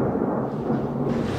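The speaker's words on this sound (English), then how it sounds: "there's a storm outside, but don't let it bother you" Thunder from a storm outside, a low continuous rumble that fills the moment, moderately loud and heard alone.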